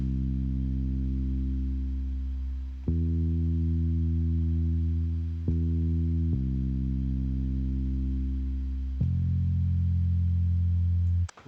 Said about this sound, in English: So I used my standard classic 80s bass, and this is just following the chords